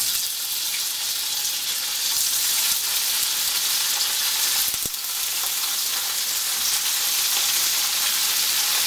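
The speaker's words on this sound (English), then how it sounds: "I'm gonna heat some extra virgin olive oil in this skillet, and then we're gonna brown the tofu." Tofu browning in a skillet of hot extra virgin olive oil, with a steady broadband sizzle and frying hiss throughout and a brief clink near the middle.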